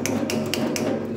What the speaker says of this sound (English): It looks like I did that with the hammer.